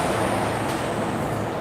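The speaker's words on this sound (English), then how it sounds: "all these trucks and things pass through here." Heavy trucks rumble past on a road by a bridge, a loud, steady broadband roar that holds for the whole moment with a faint high whine above it.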